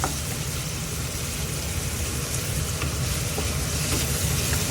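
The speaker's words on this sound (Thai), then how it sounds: "เดี๋ยวผัดผงให้สุกสักนิดนะครับ ตอนนี้พอน้ำตาเริ่มละลาย" Sugar stir-fried in a home kitchen pan until it melts, giving a steady close sizzle with scraping stir noises and a low rumble underneath, with no talking.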